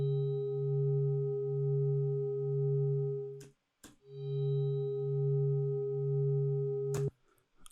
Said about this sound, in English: healing kind of chime.